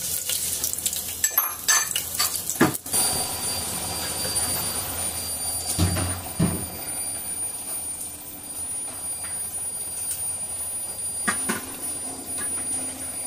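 Two bay leaves with crushed cloves, cardamom and cinnamon fry in a pan, giving a steady, moderately loud sizzle broken by a few sharp clinks of stirring, with no talking.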